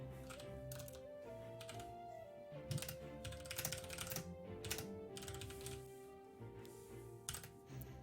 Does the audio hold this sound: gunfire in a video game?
no